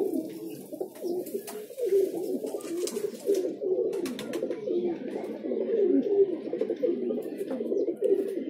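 Domestic desi pigeons of a home-bred breed in Patna, Bihar cooing in overlapping, continuous rolling coos close by, with a few faint chirps and knocks in the background.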